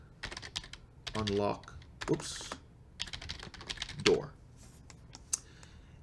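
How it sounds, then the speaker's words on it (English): Computer keyboard typing in a quiet room, a run of light, uneven key clicks broken by short pauses, with someone talking over parts of it. "start typing custom event"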